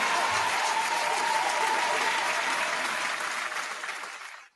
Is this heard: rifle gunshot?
no